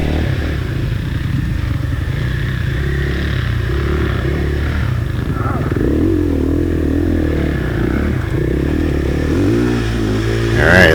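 A dirt bike engine racing in a hare scramble through woods and hills, loud and close with a continuous buzzing drone that shifts pitch as the throttle changes, plus occasional clattering.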